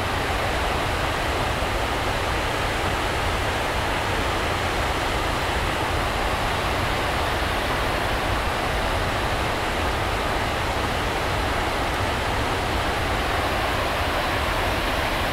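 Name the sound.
Raquette River flowing past icy rocks and a dam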